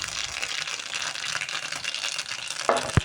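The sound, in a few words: mustard seeds and asafoetida sizzling in hot oil for tempering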